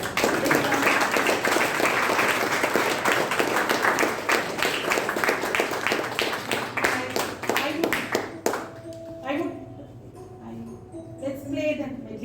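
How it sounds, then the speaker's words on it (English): An audience at a club meeting breaks into a round of clapping, dense and fairly loud at first, then dying away after about eight seconds into a quieter room with faint voices. "let's give one more round of applause by the audience."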